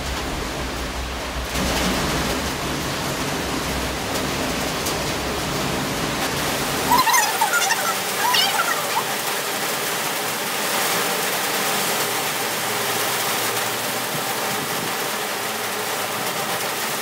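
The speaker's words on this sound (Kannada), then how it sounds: "ಜೋರಾಗಿ ಮಳೆ ಮಾಡ್ತಿದೆ, ಗಾಳಿ ನೋಡ್ಬೋದು" Heavy rain with gusting wind in Udupi, a dense, steady roar of falling water that thickens partway through and carries on loud and unbroken, with no voices.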